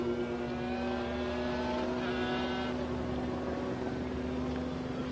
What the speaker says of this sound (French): Et le voici Dalmas qui attaque Andy Wallace, les deux voitures côte à côte dans la ligne droite des Hunaudières.